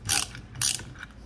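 A Kusonkey magic socket ratchet gives two quick bursts of mechanical clicking, close and crisp, with a fainter click trailing after and no talk.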